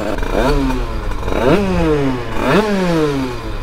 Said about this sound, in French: je tourne à peine la poignée d'accélérateur que ça monte dans les tours